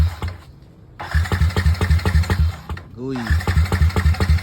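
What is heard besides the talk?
motorcycle engine cold starting, then dying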